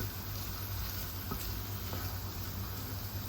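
Onion and crushed tofu cooking in a pan with a soft, even sizzle that holds at a low, steady level throughout, with no voices.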